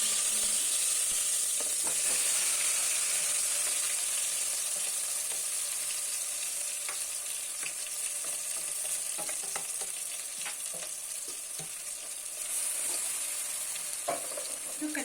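Food being stirred in a pan over a wood fire: a continuous hissing sizzle with soft scraping strokes scattered through it, moderately close and without talk.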